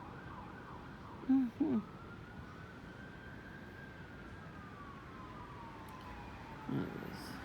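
A distant ambulance siren wails steadily and faintly across an outdoor roadside scene, a long rising and falling tone under low traffic hum, with a brief murmured sound from someone nearby.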